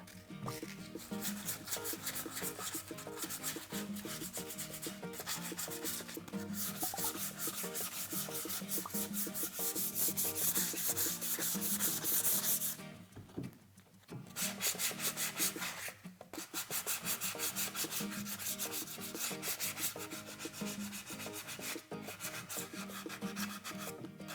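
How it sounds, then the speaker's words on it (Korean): Steady, continuous rubbing and scraping of sandpaper on a wooden cutting board, close and fairly loud, with a brief pause midway before the sanding strokes resume. "아주 꼼꼼하게 사포 작업을 해주시기를 바라겠습니다."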